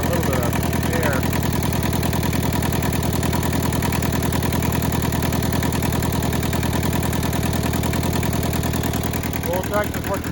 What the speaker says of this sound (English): Tractor's working great.